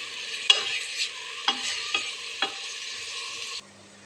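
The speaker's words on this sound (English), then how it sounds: "We're doing this on high heat, just browning the onions slightly." Chopped onions browning in a pan over high heat, giving a steady bright sizzle broken by several sharp stirring scrapes, then cutting off abruptly near the end.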